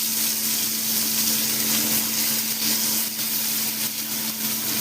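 Fish sizzling on a hot tawa, a dense and constant close frying hiss that stays loud throughout over a faint steady hum.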